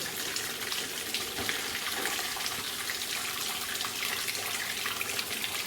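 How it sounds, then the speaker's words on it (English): Antifreeze drains from an old Land Rover-style engine, a Malawi 110, into a bucket, making a steady splashing gush of liquid that runs unbroken and close by for several seconds with no talking. "We'll have antifreeze everywhere, but... Oh no we won't, because we're going to put it in the bucket."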